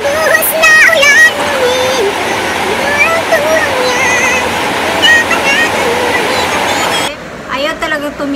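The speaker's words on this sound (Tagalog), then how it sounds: "Sobrang lakas ng ulan." Heavy rain pours down in a steady, loud, broadband wash that runs almost throughout, with someone talking over it, before it drops away near the end.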